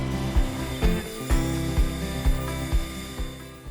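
A table saw runs with a steady motor hum while cutting wooden end grain strips to size, with regular thumping pulses recurring about every half second, loud and close with no talking.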